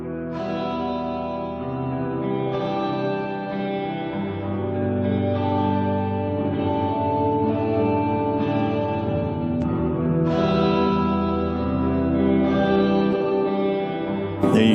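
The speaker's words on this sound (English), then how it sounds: "I've turned my direct level all the way off because I want to show you the reverb sound." Wet-free reverb from a Boss GT-1000 guitar multi-effects pedal, washing over a series of strummed electric guitar chords that swell and decay into a dense, lingering ambient tail.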